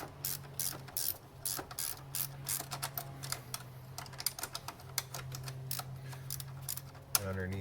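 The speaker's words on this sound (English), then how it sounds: "Next, we're going to get the 13 mil stud out. I was able to slip a ratcheting one over this." A ratcheting wrench works a 13 mm stud on a 2003 Pontiac Sunfire 2.2L Ecotec engine, sending out rapid bursts of dry clicking in irregular runs up close, with a short mechanical clunk near the end.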